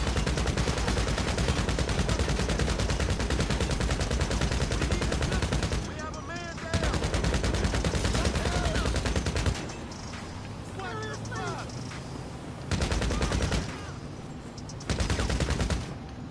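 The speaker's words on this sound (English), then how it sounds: "Just keep on shooting." Rapid sustained gunfire in GTA V, dense automatic bursts that break off several times, with quieter gaps where voices talk over lighter background sound.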